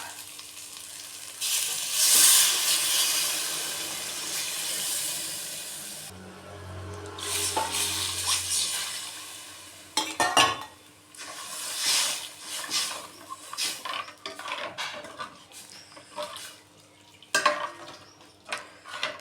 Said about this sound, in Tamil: இதை நான் அப்படியே தாளித்து விட்டுக்கிடுவோம்